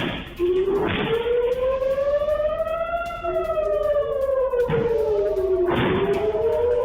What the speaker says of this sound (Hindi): मरगलियत में भी हमलों के सायरन गूंजते सुने।